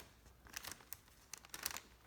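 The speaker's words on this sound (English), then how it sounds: "put it in a plastic bag" A kitchen paper towel mask pushed into a plastic bag, a few brief crinkles and rustles of the plastic, quiet and close, with nothing else heard.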